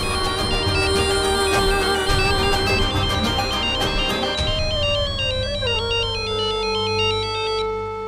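A mobile phone ringtone plays on and on with no answer, a bright repeating electronic melody that stays loud and steady over a low background bed throughout.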